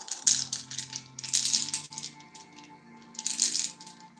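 Dice tumble and clatter inside a box during a card-and-dice ASMR session, heard as several bursts of bright rattling over about four seconds, close to the microphone and with no talking.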